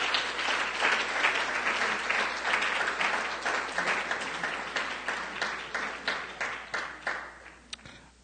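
Applause at a church Black History Month gathering, a sustained roomful of clapping that thins and fades toward the end, with no one speaking over it.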